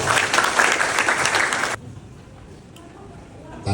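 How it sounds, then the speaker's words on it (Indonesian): Loud applause from a crowd at a university campus event in Indonesia, filling the first half and then cutting off abruptly to quiet room tone. "Tepuk tangan."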